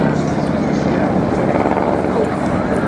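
Replica Junkers J1 ground attack aircraft at the Dunsfold Wings and Wheels airshow give a steady, loud engine and propeller drone throughout, with a commentator talking over it.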